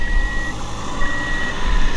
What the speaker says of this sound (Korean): 누르고 있으면 지금 삐삐삐 소리와 함께 열려요